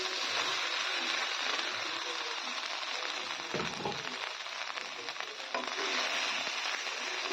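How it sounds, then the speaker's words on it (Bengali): Vegetables and curry leaves fry in a pan for lemon rice, giving a steady loud sizzle with scraping and clinks as they are stirred. "একসঙ্গে ভালো করে নেড়ে চেড়ে ভেজে নিচ্ছি"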